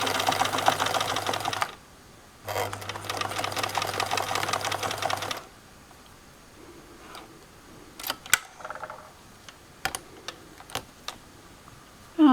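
Home sewing machine backstitching a seam on a jumpsuit romper, running in two close bursts of steady rapid stitching, then stopping for soft handling clicks and taps.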